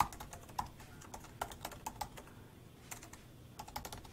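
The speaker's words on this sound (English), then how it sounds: "type in their email." An email address is being typed on a computer keyboard: quiet, close key clicks come in quick irregular bursts with short pauses between them and no one speaking.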